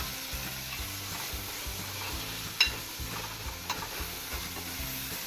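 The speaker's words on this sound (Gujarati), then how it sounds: "થોડુંક હલાવી લઈએ પહેલાં." Sabudana khichdi with potatoes frying in a pan, a soft continuous sizzle with occasional scraping of a spoon while stirring, low and close with no talk.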